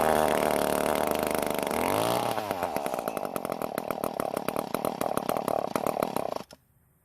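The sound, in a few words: Echo edger two-stroke engine starting then stalling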